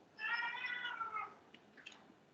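A house cat gives a single drawn-out meow, close and clear over a quiet room, followed by a couple of faint soft clicks.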